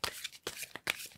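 Tarot cards being shuffled close up, quick papery riffles in three short bursts within about a second.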